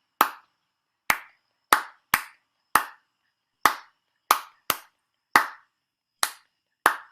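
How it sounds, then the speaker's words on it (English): Eleven crisp, sharp hand claps ring out alone in a deliberate additive rhythm, grouped unevenly with longer and shorter gaps, each clap close and loud with a short room decay and silence between. "I have a couple of clapping rhythms. I think one of them is like, I think of it as sort of 4 plus 3 plus 2 plus 3."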